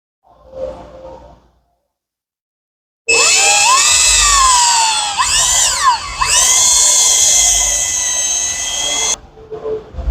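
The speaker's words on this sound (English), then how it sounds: "So same thing, we're gonna drill in, use the stock hardware with this" A high-pitched power drill with a 4mm bit whines steadily for several seconds, pitch dipping and rising as it bites into a Yamaha SuperJet hull, then cuts off.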